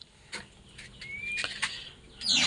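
A magpie robin (murai batu) moves about inside its cage, with close, intermittent wing flutters and rustles plus a thin chirp, growing busier toward the end.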